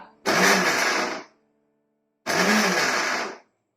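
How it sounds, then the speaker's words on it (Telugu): A mixer grinder coarsely grinding bitter gourd chutney whirs loudly in two short bursts of about a second each, separated by a pause of near silence. "ఈ విధంగా కచ్చాపచ్చిగా మిక్సీ పట్టుకోండి"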